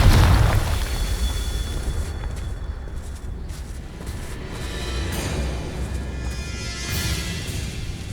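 A Confringo fire spell blasts in Hogwarts Legacy, opening with a loud, deep boom whose rumble slowly decays into a sustained roar of ambient noise with faint crackles.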